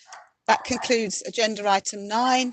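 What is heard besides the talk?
dog barking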